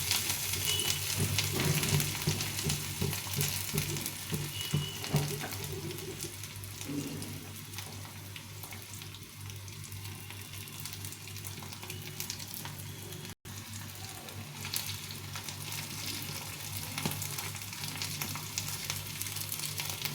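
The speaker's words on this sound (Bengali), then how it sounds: "আদাটা একটু ভাজা ভাজা হবে," Five-spice seeds and chopped ginger fry in oil in a pan for a dal with ridge gourd, giving a steady close sizzle with occasional stirring and no talk.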